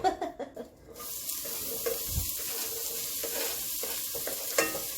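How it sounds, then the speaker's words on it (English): Onion and garlic fry in olive oil with a steady sizzle and occasional stirring scrapes and clinks, moderately quiet and close, no voices. "the olive oil has heated. So let's go ahead and add our veggies. Basically, our onion and garlic"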